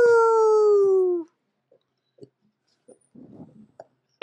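A human voice imitates a Chihuahua-beagle mix dog with one long, drawn-out howling tone, followed by a few faint scattered clicks and mouth noises.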